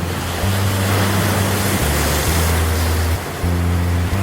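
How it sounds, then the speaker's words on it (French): Big waves on an Ontario lake, rolling in like sea surf, make a loud, steady wash and rumble with heavy wind buffeting the microphone throughout. "vagues extraordinaires comme en mer"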